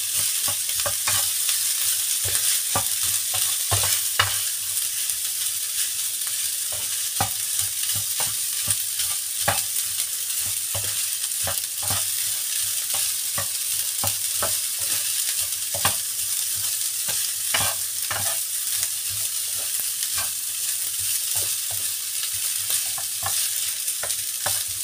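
Simple fried rice is stir-fried in a pan, with a steady sizzle running throughout and a utensil scraping and tapping against the pan at an irregular rhythm, close and clear.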